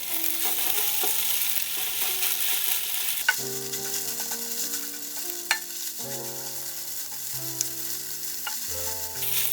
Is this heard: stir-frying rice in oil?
yes